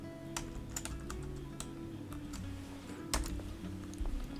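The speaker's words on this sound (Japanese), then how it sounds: "今のところ、キーボードだけで入力しています。" Quick, light keystrokes on a computer keyboard during shortcut-driven data entry, irregular clicks and taps over a steady low electrical hum, close and fairly quiet.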